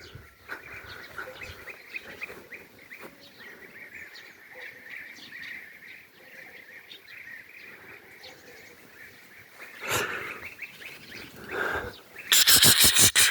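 European bee-eaters calling over an apiary where the birds perch on the hives, a steady chorus of bird calls across a rural outdoor background, with a louder, harsher burst near the end and no talking.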